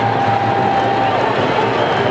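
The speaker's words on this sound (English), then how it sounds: "huge roar when the name was announced" A packed cricket stadium crowd during an India versus Pakistan Champions Trophy match roars steadily as Shahid Afridi walks out to bat, a dense continuous wall of noise with a commentator's voice over it.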